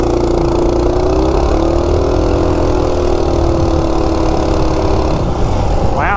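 A Coleman RSV minibike with a stock 196cc engine and Coso carb revs hard as it accelerates from 0 to 30, a loud, close, buzzing small-engine drone with rising pitch, alone without talk.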